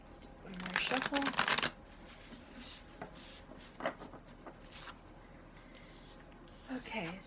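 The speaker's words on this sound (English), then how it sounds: "let's do one more shuffle" Cards shuffled in a quick riffle burst near the start, followed by soft handling noises and a few light taps, close and clear.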